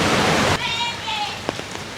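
Heavy rain falls at Blue Lagoon 2 in Vang Vieng as a loud, close hiss that drops abruptly to a softer patter, with a voice and a few sharp taps following.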